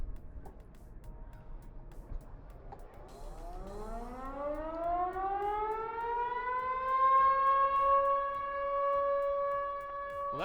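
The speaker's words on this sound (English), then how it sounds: "The air raid siren." An air raid siren at Jerome Ghost Town winds up from a low growl into a long rising wail that swells and holds loud, heard from a distance.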